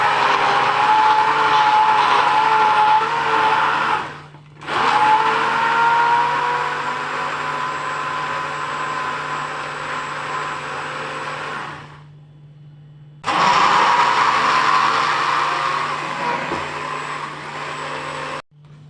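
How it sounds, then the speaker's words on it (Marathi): A hand mixer blends homemade lassi with a loud, steady motor whir that halts briefly twice before starting up again. "हे सर्व आपण हँड मिक्सीने मिक्स करून घेणार आहोत"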